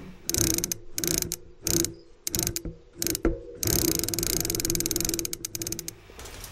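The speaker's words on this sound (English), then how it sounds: "I started kind of dancing with the pedals and turning it chick, chick, chick on the beat" A ratchet-like mechanism turned by pedals clicks in bursts on the beat, loud close rattling chicks with brief gaps, then a longer rapid run of clicks, no voices.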